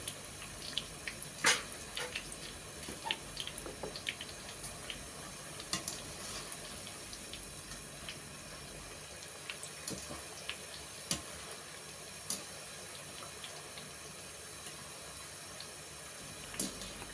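Motichoor boondi, fine droplets of gram-flour batter for laddu, fry in hot oil with a constant dense hiss and crackle, with occasional sharper pops and light clicks throughout.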